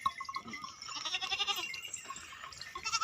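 A grazing goat in a mixed flock of goats and sheep in Jida village, Bathinda, gives a few nasal, wavering bleats, close by and fairly clear, with light background noise and no talking.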